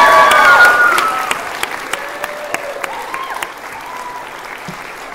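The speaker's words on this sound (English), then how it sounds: "Let's all give them a round of applause." A graduation audience gives a round of applause for a graduate's parents, starting full with cheering and tapering to sparse, distinct claps over a few seconds.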